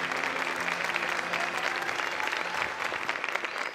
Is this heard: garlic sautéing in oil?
no